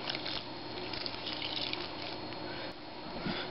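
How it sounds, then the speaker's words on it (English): Water pours steadily from a tap into a container while eggs are being prepared, a continuous close splashing rush that holds for the whole stretch with a brief dip near the end. "I just add water to this is dry, about an inch deep or so"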